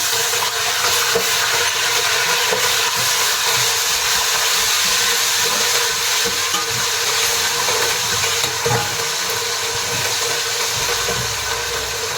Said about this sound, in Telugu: అల్లం వెల్లుల్లి పేస్ట్ వేస్తున్నాను